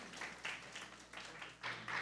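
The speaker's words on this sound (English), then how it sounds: "we can clap to that" Faint clapping from a church service congregation, a few soft irregular bursts of hands clapping that come and go at a distance.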